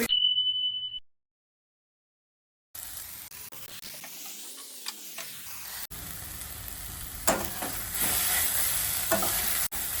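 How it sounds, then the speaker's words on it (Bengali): Soya chunks and potatoes being stir-fried in a pan, with a short beep and a silent gap at the start, then steady scraping and sizzling that gets louder and busier toward the end. "সয়াবিন আর আলুটাকে ভালো করে কষে নেব"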